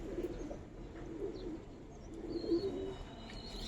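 Giribaz coloring pigeons, a young hen among them, coo softly in a loft, with low murmuring calls recurring around the midpoint and near the end under steady background noise.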